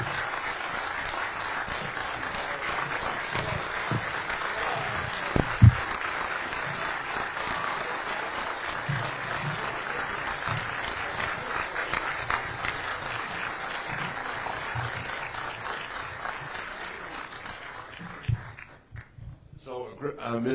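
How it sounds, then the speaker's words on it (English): An audience at a live stream event applauds for about twenty seconds, a dense, sustained wash of clapping that fades near the end, with voices mixed in underneath. "Big round of applause for Misty, guys."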